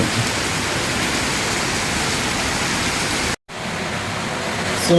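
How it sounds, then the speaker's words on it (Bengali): Heavy, pouring rain outside gives a dense, loud, steady roar of water that cuts out for a moment near the end before resuming. "বাইরে প্রচণ্ড বৃষ্টি হচ্ছে ঝুম বৃষ্টি হচ্ছে"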